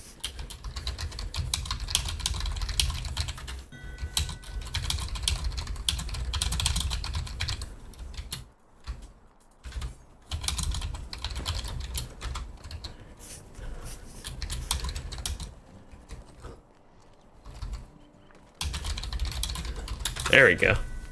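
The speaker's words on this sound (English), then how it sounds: "Got my typing done." Computer keyboard typing during a Lord of the Rings Online game stream, rapid clustered key clicks in bursts with short pauses, close and fairly loud over steady background game sound.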